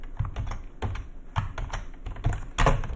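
Keys clatter on a computer keyboard in quick, uneven bursts of clicks, close and distinct, with no talking.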